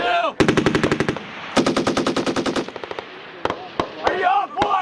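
Marine Corps machine gun section firing at 29 Palms: two long rapid bursts of automatic fire close by, followed by scattered single shots, with shouted voices around.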